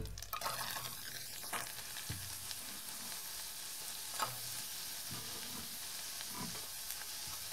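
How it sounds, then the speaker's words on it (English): Onions sizzle steadily in hot butter while making ramen, a close crackling hiss with occasional stirring scrapes and taps. "once the butter starts to sizzle, then you throw your onion in."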